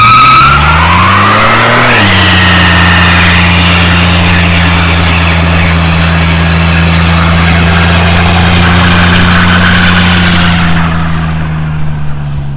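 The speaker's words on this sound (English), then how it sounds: "It does mean second gear burnouts, dude." A Toyota mini truck does a second-gear burnout. The engine revs up sharply, then holds a loud, sustained roar with tire squeal for about ten seconds before easing slightly at the end.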